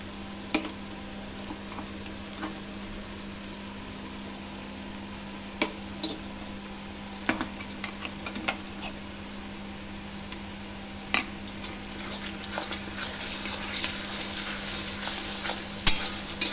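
Meat frying in a pot with ginger garlic paste added, a steady sizzle under intermittent scraping and clinking of a utensil, with stirring growing busier toward the end; no voices.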